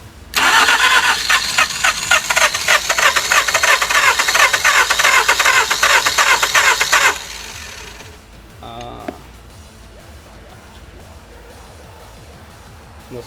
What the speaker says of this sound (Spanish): Le voy a dar marcha.